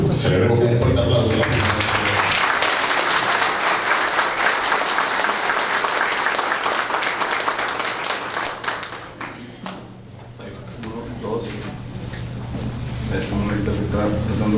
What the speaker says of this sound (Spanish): Celebremos con un fuerte aplauso.